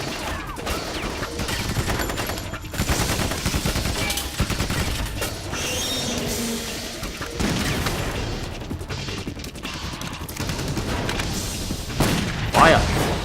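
Soldiers open fire in the video game Metal Gear Solid 2, with dense, continuous bursts of gunfire and booms over game noise, loud throughout and swelling near the end.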